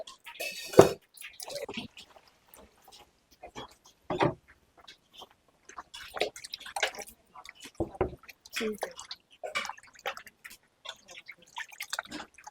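Water splashes and drips unevenly as it is poured over cut catla fish being washed by hand, coming in short bursts and trickles with quiet gaps, while a person talks over it.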